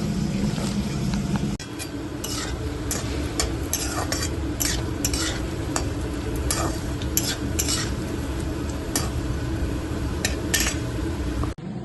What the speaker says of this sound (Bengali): বাদ বাকি এখানে যে বড়াটা রয়েছে সেটা ভেজে নিচ্ছি